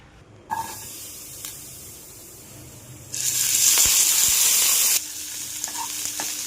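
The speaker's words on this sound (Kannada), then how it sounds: "ಈಗ ಫಸ್ಟು ಹಸಿಮೆಣ್ಸಿನ್ಕಾಯಿ ಚೆನ್ನಾಗಿ ಹುರ್ಕೋಬೇಕು" Green chillies fry in a pan, a quiet sizzle swelling into a loud hissing burst for about two seconds before settling back, with a few faint knocks; no talking.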